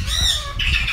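An eclectus parrot at a bird breeder's in Cebu lets out a harsh, loud squawk, then a second grating cry after a brief pause, close to the microphone.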